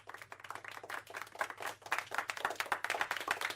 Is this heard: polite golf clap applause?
yes